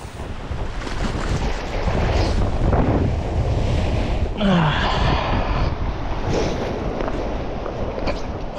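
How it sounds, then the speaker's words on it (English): Strong sea wind buffets the microphone steadily on a rough shoreline during fishing, with waves and surf rolling underneath throughout. "It is just a little bit too windy out right now to be fishing."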